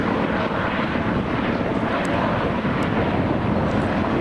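A large firefighting helicopter working a wildfire roars steadily overhead, a loud, continuous broadband engine and rotor wash with no talk.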